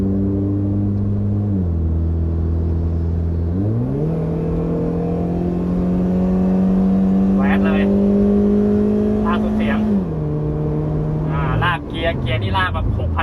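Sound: remapped Honda Civic FB car engine accelerating

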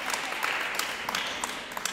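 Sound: audience applauding Pascal

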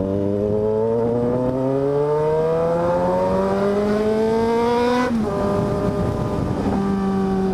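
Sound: Yamaha XJ6 motorcycle with modified exhaust revving

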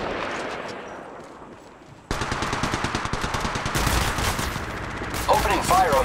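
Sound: gunfire in video game Apex Legends Mobile

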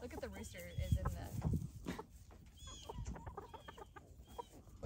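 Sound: chicken on a farm

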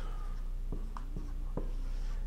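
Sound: drawing township sections by hand

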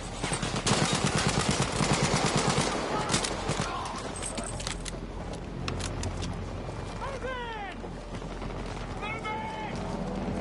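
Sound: gunfire in the video game Battlefield V

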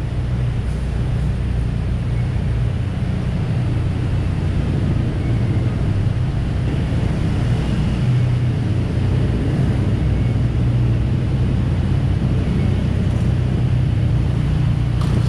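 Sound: road traffic

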